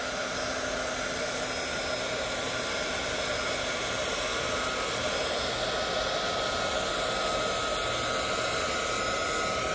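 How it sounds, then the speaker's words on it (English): A heat gun used for nail art blows steadily with a loud, continuous roaring hiss of air that holds level, close to the mic, for the whole stretch, with no voices heard. "I know my heat gun probably have to get hot."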